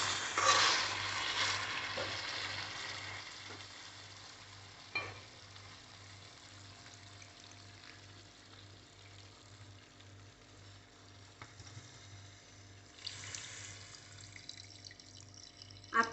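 Chicken curry sizzling and frying in a pan, with a clear burst of hiss and bubbling as water is poured in for gravy, then a steady low simmer with occasional stirring clinks and a faint background hum.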